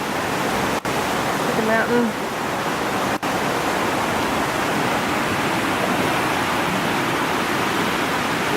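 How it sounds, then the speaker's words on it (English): Rain falls outdoors in the Lake District as a steady, loud, broadband hiss that fills the scene, with a brief spoken phrase partly masked by it. "out in the rain"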